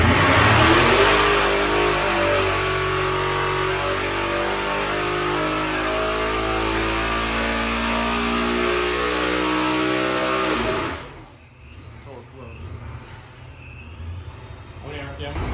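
Freshly built 363 cubic inch small block Ford V8 with an F1A-94 Procharger revving hard on a dyno, a loud sustained climbing engine roar with supercharger whine that cuts off near the end, leaving a quieter shop background.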